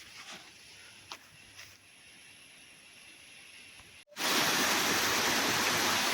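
Water gushing from a Texmo Aquatex submersible well pump lowered into a well, a loud steady broadband rush bursting in suddenly after a quieter stretch of faint ambient noise and continuing strongly to the end.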